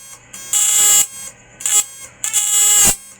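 A homemade MOSFET-type stun device sparks in three sharp buzzing bursts, each a harsh crackling zap with a piercing high whine, close and loud, separated by brief quiet gaps.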